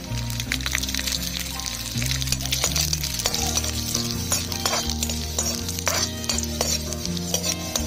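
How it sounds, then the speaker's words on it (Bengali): Garlic and dried red chilies fry in hot mustard oil for a Bengali pumpkin mash, with a steady close sizzle and bursts of stirring and pan scraping throughout. "রসুন আর শুকনো লঙ্কা ভাজা হয়ে গেছে,"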